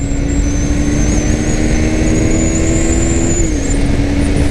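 A 2021 KTM Duke 390 BS6 motorcycle runs hard near 9000 RPM in 4th gear, its engine a loud, steady high-pitched drone with wind roar and a slight pitch shift near the end.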